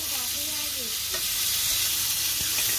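Hilsa fish frying in a pan makes a steady, close sizzle with soft spatters and a few light utensil taps, and a faint voice briefly murmurs underneath near the start.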